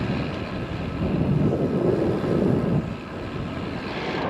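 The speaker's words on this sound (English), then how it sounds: "the little breeze that we had on Paddock Road has actually progressed to a wind along here" Wind buffeting a microphone during a flat countryside bike ride, a steady, loud, low roar that swells in the middle and then eases slightly.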